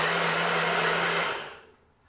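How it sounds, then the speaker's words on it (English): Bullet blender whirring through coconut for homemade coconut milk, a loud steady motor drone that cuts out around the midpoint and fades into quiet. "So I'm just going to blend it now."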